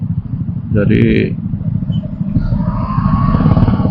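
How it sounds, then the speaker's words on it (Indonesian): Motorcycles and cars idle together at a red traffic light, a dense low engine rumble with a rising whine later, while a voice speaks briefly over it. "apalagi ini kan suaranya ada berapa motor, banyak banget mobil"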